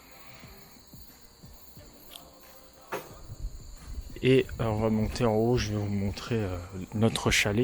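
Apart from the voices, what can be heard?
crickets chirping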